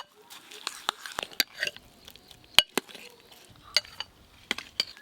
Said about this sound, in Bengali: এবার আমি সব কিছু একসঙ্গে ভালো করে মিশিয়ে নেব